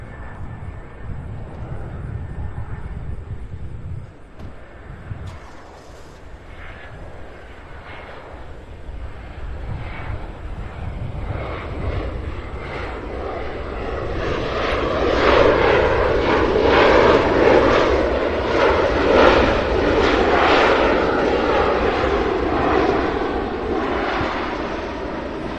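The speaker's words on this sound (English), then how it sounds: "Nice landing for Allegiant there, too. Airbus A319" A 17-year-old Allegiant Airbus A319 lands at Cincinnati's CVG airport: a steady engine rumble swells midway into a loud, broad roar that holds, then eases slightly, with no talking.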